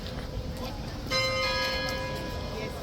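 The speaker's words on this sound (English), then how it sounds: "That's the bell for exactly 11 o'clock." Bell at Horse Guards striking 11 o'clock, a single clear ringing stroke that hangs and slowly decays over a low murmur of outdoor crowd noise.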